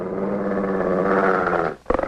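A dog growls low and steadily, a sustained rumbling snarl that cuts off near the end before a short sharper burst.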